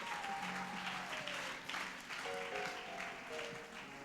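A church congregation claps steadily for God during a service, a sustained wash of many hands heard at a moderate distance, with faint voices and music tones underneath.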